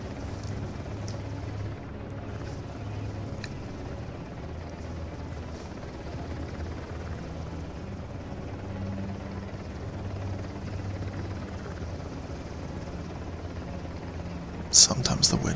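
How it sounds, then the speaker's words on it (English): A helicopter hovers nearby in the video game Uncharted: The Lost Legacy, a steady low rotor drone running continuously beneath a person's talking, with a brief sharper burst near the end. "We're just going to make sure that the helicopter, it just flew into its new position behind us"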